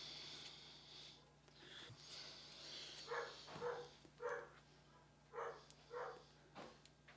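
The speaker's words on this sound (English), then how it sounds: "Dogs are barking, so Lauren's home." Several dogs bark in a loose series of short, muffled barks, heard from a distance and fairly quiet.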